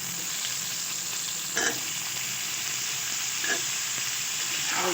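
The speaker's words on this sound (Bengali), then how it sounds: "আলুটা একটু ভালোভাবে ভেজে নিব।" Potatoes fry with tomato, chili and spices in a pan, giving a steady bright sizzle throughout, with a couple of brief stirring scrapes and no voices.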